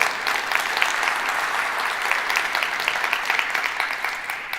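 A crowd applauding steadily at Flint's 2024 State of the City address, dense sustained clapping from a large hall audience with individual claps popping through, lasting several seconds.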